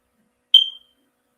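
A single short electronic alarm beep, high-pitched and clean, sounds once and fades quickly in otherwise silent surroundings.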